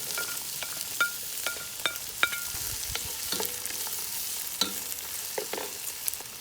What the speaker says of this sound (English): so I'm going to add the onion.